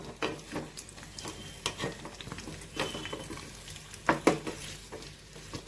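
Sweet potato slices are turned over in ghee in a small nonstick pan, soft scraping stirs and gentle sizzling in irregular bursts, close and fairly quiet.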